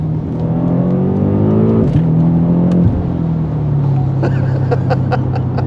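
A BMW F90 M5 accelerates hard from inside the cabin, its engine note climbing steadily through two quick gear changes with a brief dip at each, then settling into a strong, loud, continuous drone.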